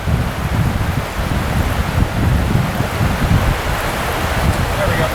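Fast water runs steadily through a trout pool on a winter fly-fishing stream in south central Pennsylvania, a dense continuous rushing wash, loud and close, with some wind buffeting the microphone.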